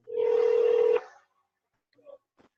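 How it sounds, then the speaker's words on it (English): A telephone ringback tone sounds during an outgoing call: one steady electronic tone lasting about a second, followed by faint, brief background noises. "Can you hear the ring?"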